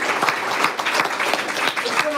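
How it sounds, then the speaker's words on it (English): Steady applause from a large seminar audience fills the room, dense overlapping claps at a constant loud level, with a few voices faintly audible beneath the clapping. "It's all of you, so give all of you a round of applause."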